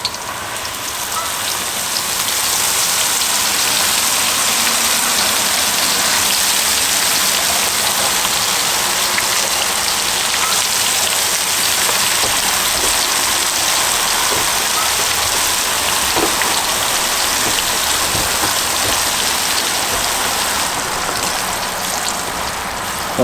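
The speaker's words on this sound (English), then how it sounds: "we're just going to fry these until they're golden brown" Onions fry in hot oil at about 320 to 325 degrees for hibachi onion soup, producing a loud, dense, steady crackling sizzle that runs unbroken throughout, with no talk.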